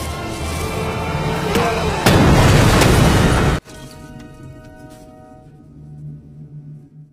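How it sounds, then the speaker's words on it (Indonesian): A grenade explosion from a war film about Marines fighting Japanese soldiers: a loud, dense burst of noise that swells and then cuts off abruptly, leaving a quieter rumbling aftermath. "Dengan perasaan yang sangat sedih, ia pun melemparkan granat tersebut."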